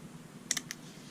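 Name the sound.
Victorinox SportRatchet ratchet clicking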